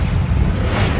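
A Bombarda explosion spell from Hogwarts Legacy goes off as a heavy, rumbling boom with a low whooshing roar, loud and sustained without a sharp attack.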